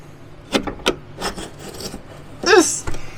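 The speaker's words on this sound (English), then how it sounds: "we're doing our best to use this putty knife to scrape the glue seam open" A putty knife scrapes open a factory-glued seam on a vehicle heater box, producing short rasping, grinding strokes close by, with one longer squeaky scrape near the end.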